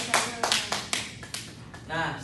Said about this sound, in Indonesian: Tepuk tangan untuk Mas Ryan.